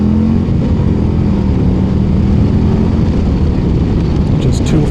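A 2025 Harley-Davidson CVO Road Glide in sport mode pulling hard, loud close engine roar with the pitch climbing steadily, heard from the rider's position with wind noise.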